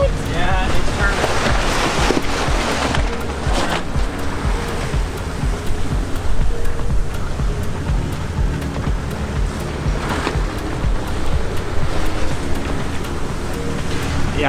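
Strong wind and rolling ocean waves surround a sailboat on a Pacific Ocean crossing, a loud, constant roar of gusts and surf with microphone buffeting throughout.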